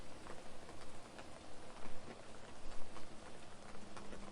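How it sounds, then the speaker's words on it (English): Evening rain falling on a forest path, a steady soft patter of drops spread evenly throughout with no other sounds. "the first drops of evening rain are beginning to fall"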